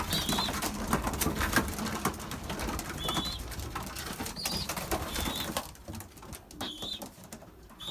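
Pigeons coo softly in an aviary, with repeated low throaty calls over busy fluttering and shuffling of wings close by, the activity easing off slightly toward the end.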